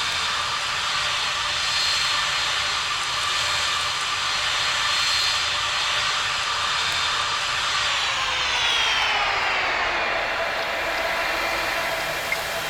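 Lufthansa heavy jet's engines in the Tower! Simulator 3 game at Boston Logan, a continuous loud turbine roar with a whining tone that slides downward near the end, heard alone without talk.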